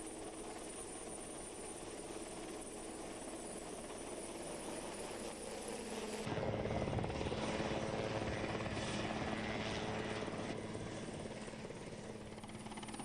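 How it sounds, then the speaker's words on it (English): A helicopter approaching an offshore rig helideck, its steady rotor and engine roar loud throughout and growing fuller and closer partway through. "Be vigilant as the helicopter approaches."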